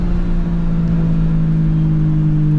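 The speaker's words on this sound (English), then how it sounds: "I'll kind of roll through the gears a little bit so y'all can hear it" BMW E92 335i with a single turbo pulling hard through the gears, a steady loud engine drone with strong low harmonics held throughout, no voices.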